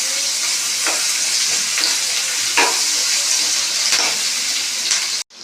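Chopped onions sizzle steadily in hot oil in a pan for a Telangana-style ridge gourd curry, a loud continuous frying hiss with a few faint stirring clicks, then a sudden cut at the end.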